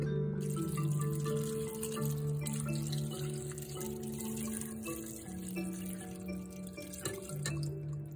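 Water poured into a cooking pot of pig intestine, heard as soft, close dripping and trickling under a steady tonal hum in the background, with no talking.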